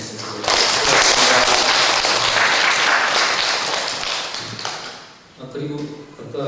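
A crowd applauds steadily for about five seconds, dense and loud, then it fades as a voice starts speaking.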